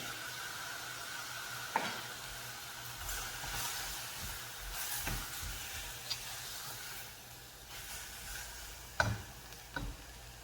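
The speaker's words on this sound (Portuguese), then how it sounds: "o alho e a cebola já fritando. Vamos jogar o nosso palmito para fritar também." Garlic, onion and hearts of palm fry in a pan, giving a steady low sizzle throughout with a few sharp clicks and taps of utensils near the start and end.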